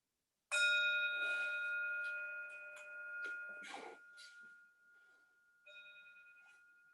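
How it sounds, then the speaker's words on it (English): A meditation bell at a Buddhist service is struck once and rings with a clear, sustained, slowly fading tone over light shuffling. A second, softer strike follows near the end. "So the bell transition us into meditation"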